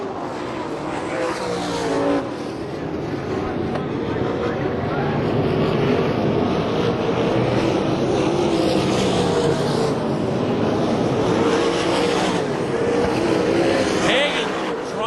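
USAC/CRA sprint cars racing at Phoenix, a constant loud engine roar from several cars that swells and fades as they pass, with a commentator talking over it throughout.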